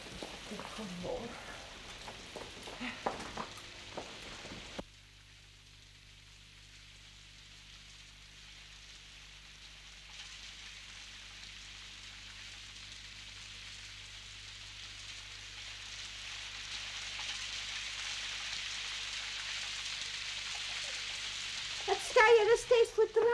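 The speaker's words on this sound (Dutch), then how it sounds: "dan moet je die plasregenen zien. Het water komt mijn bakken naar beneden." Heavy rain pours down outside a window, a steady hiss that holds throughout and swells toward the end, with voices talking briefly at the start and again at the close.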